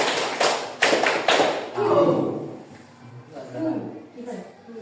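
A classroom group in Indonesia claps in unison, a few sharp beats early on, followed by voices talking.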